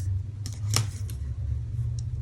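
Scissors snipping out a small paper label at a papercraft table, a few short, quiet cuts over a steady low hum, with no talking.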